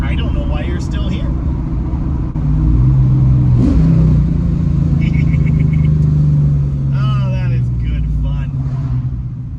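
A 1971 Dodge Challenger with a swapped 392 V8 rumbles loudly up close, its engine revving and surging over a steady deep idle while someone talks over it.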